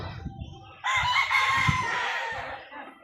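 A rooster crows loudly in one long drawn-out call over a background of soft clucking from nearby chickens.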